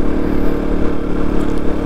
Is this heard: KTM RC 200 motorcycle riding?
yes